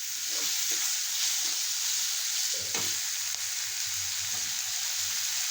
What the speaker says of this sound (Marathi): थोडा वेळ परतून घेणार आहोत।